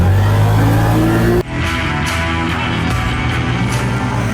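A CFMOTO ZFORCE 950 Sport UTV with a 950 cc, 85 hp engine and mud tires revs hard while driving, a loud droning engine note that cuts sharply partway through, then continues at a rougher, steady level.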